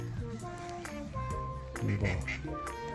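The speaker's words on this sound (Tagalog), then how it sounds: "manood na lang po kayo ng mga pato, ibon" Ducks quack repeatedly beside a lake, a busy overlapping chorus of nasal calls at close range, with a voice talking softly underneath.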